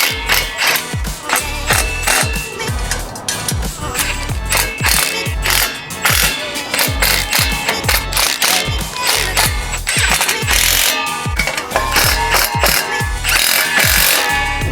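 Rapid ratcheting clicks from a tool tightening exhaust hanger bolts on a Toyota Supra during an AWE Touring catback install, a loud, continuous mechanical chatter with a steady rhythm.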